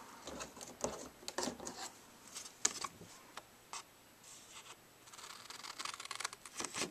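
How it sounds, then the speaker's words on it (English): Paper snips make short, crisp clicks and snips as they cut cardstock for a card box, close and quiet, in irregular bursts with pauses between cuts. "We're going to take our paper snips and we're going to snip right here."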